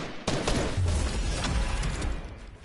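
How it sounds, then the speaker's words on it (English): Gunfire rings out from an enemy player in a video game shooter, heard as a dense rattling burst of shots that starts abruptly and carries on through the moment, loud and close, with no talk over it. "There's a guy behind me fucking shooting at me."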